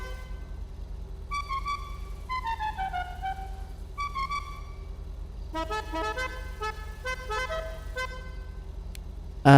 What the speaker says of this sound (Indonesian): Terus klakson.